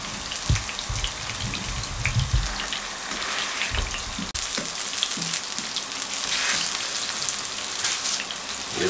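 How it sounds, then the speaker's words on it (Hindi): Galouti kababs fry gently in a pan over a low flame, giving a steady, close sizzle and crackle with a few dull knocks of cookware in the first seconds. "हल्के हल्के इनको सेकना है आपने, हल्का हल्का, बहुत तेज़ फ्लेम पे तेज़ आग करके नहीं बनाने"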